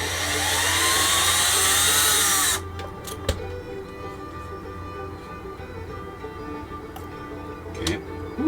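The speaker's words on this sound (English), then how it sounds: "using the drill to get these out" A power drill whirs loudly for a couple of seconds removing screws from a radio-controlled model truck, then stops, followed by quiet clicks and small clatters of handling.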